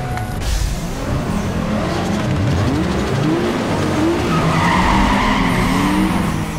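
Race car engine revving with squealing tires skidding through corners in the Need for Speed Underground 2 video game, loud and continuous, with rising and falling engine pitch sweeps.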